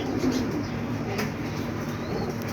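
Domestic pigeons in a loft coo softly and intermittently over a constant background hiss, with a faint flutter of wings.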